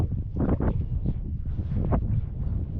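Buffeting wind gusts into the microphone while a kayak drifts on Loch Katrine in spring, low rumbling bursts with faint rustling and no talk.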